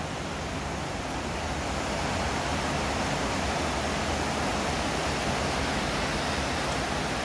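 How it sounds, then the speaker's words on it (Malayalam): Heavy morning rain in Thiruvananthapuram, near the Secretariat area, a dense and even hiss of downpour that holds steady and fills the whole stretch with no voices. "നല്ല മഴ തുടങ്ങി"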